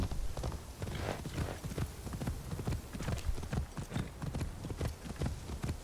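A horse gallops in Assassin's Creed Shadows, its hooves clip-clopping in a fast, steady rhythm, loud and close, with the game's ambient noise beneath and no talking.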